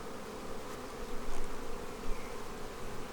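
Honey bees buzz steadily at an open hive during an inspection while a honey flow is on, a dense continuous drone close by with slight swells in loudness and no talking.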